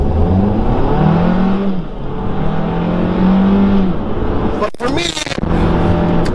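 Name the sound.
Hyundai Kona 1.6 turbo engine accelerating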